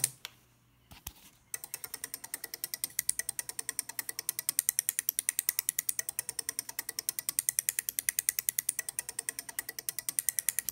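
An Arduino Nano drives a 12-volt relay module, switching fourteen relays in a fast, steady train of sharp mechanical clicks that plays like rhythmic percussion, starting after a brief switch-on click and continuing alone for several seconds.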